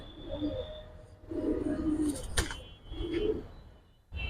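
Giribaz pigeons with red-footed silver coloring coo in low, soft bursts, several throaty calls spaced across the moment, fairly close, with faint background noise between them.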